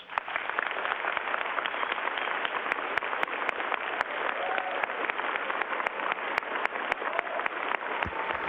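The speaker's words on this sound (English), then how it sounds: "Students, please show them a round of applause." Steady, dense applause from a crowd, continuous and fairly distant, with sharp individual claps poking through the wash of sound.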